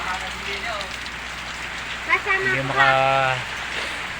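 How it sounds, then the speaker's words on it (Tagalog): Steady heavy rain during a storm patters and hisses throughout, with a voice speaking briefly over it near the end. "Lakas ng ulan."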